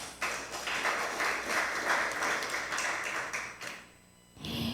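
Applause from an audience honoring speakers at an international forest conservation webinar, a dense steady patter of clapping lasting about four seconds before fading out, with a brief new burst of sound at the end.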